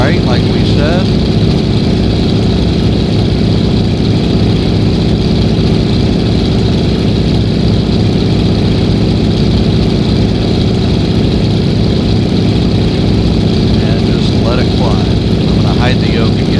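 A de Havilland Beaver's radial engine roars steadily and loudly through takeoff and climb-out, a dense continuous drone from inside the cabin, with a voice speaking over it.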